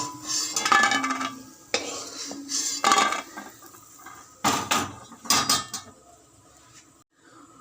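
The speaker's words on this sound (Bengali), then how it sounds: "বড়িগুলো ভাজা হয়ে গেছে, এবার বড়িগুলোকে তুলে নেব।" Fried lentil dumplings are lifted out of a pan of oil, heard as a series of close metallic scrapes and clinks of a utensil against the pan, separated by short pauses.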